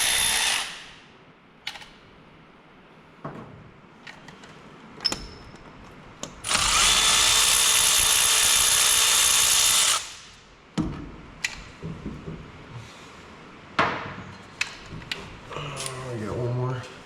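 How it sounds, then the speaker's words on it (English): Ratchet wrench working on a shop truck, heard as a loud sustained burst of rapid clicking lasting a few seconds, framed by scattered clanks and tool knocks before and after. "It's just a ratchet wrench."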